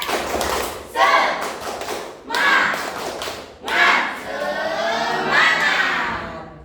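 Rhythmic group clapping in several loud bursts, with a crowd of young voices chanting and cheering over the beat.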